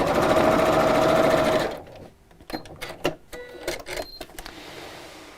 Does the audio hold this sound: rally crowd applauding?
no